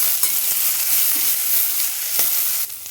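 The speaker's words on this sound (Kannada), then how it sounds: "ಇದನ್ನು ಹಾಕ್ಕೊಂಡು ಫ್ರೈ ಮಾಡ್ಕೊಳ್ಳೋಣ." Mint and coriander leaves frying in a pan for a green vegetable biryani paste, giving a steady close broadband sizzle with a few light stirring clicks, dropping slightly quieter near the end.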